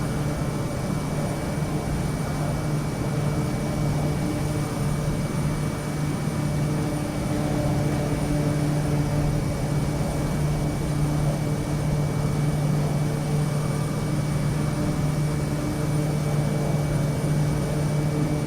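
Propeller aircraft droning steadily in Microsoft Flight Simulator over Papua New Guinea in rain, a constant hum with a strong low engine tone held evenly throughout, no voices.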